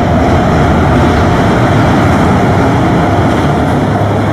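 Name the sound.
train rumbling across a bridge, radio drama sound effect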